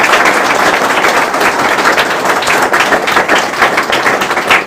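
An audience applauds a father's thoughtful views at an indoor talk, with dense, steady clapping from many hands at close range, loud and continuous throughout without speech.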